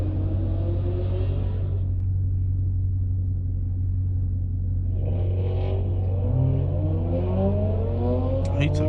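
A BMW and a Porsche launch at a dragstrip, their engines roaring loud and steady, with a sharp upshift partway through and a rising rev whine as they pull away.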